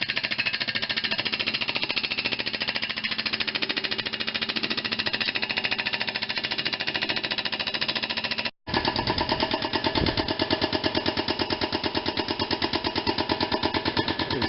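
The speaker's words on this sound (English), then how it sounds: "The pump is cavitating." A high-pressure grease pump, used to remove a cylinder from an R-1820-76 radial engine on an HU-16 Albatross, cavitates with a loud, steady, rapid pulsing hammer that cuts out for an instant midway, then resumes.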